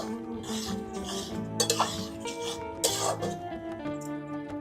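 Green mango chutney, a sweet, sour and spicy 'plastic' style, simmers in a pot while being stirred, giving soft scraping strokes and a couple of sharper clinks over a steady background of music.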